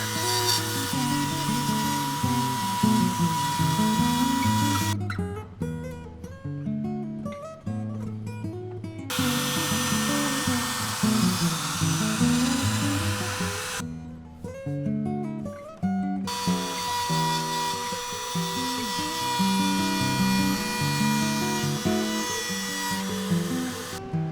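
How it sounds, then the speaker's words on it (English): A router cuts an end graft slot into the maple body of a handmade guitar, a loud high whine with a grinding cutting tone, running in long passes broken by two short pauses. "I'm now routing for the end graft"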